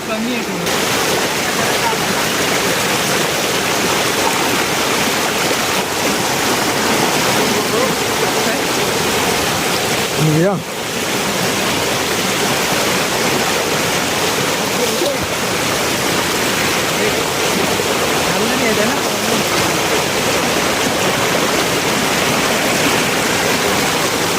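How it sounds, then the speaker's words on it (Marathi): A strong river current rushes loudly and steadily at night throughout, close by, with a brief knock partway through and no talk. "पाण्याचा फोर्स खूप आहे इकडे"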